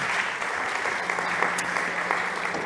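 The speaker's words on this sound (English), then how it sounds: "big applause for Alvaro." An audience at a startup competition's enterprise stage bursts into brisk applause, dense close clapping for a few seconds with no voices over it.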